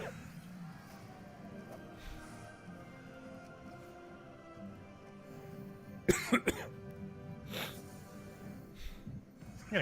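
Sharp coughs break out suddenly in a quick cluster near the middle, followed by a few more scattered coughs and a throat-clearing, against a quiet indoor background.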